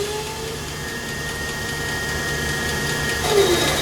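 A wheel balancing machine spins a tire in a workshop, giving a steady mid-pitched motor whir with a faint tonal hum that holds level before a slight rise near the end.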